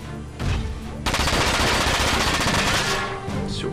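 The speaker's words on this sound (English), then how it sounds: "Ooh, double shot." A double gunshot in the video game FM4 rings out as a loud burst of close gunfire, one shot and then a second that rolls straight into a rapid rattling volley lasting several seconds before it fades.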